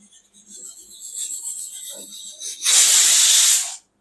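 Steam hisses loudly from a pressure cooker cooking sprouted moong, with a quieter hiss building first and then a strong, steady high-pitched jet of steam for about a second before it stops abruptly.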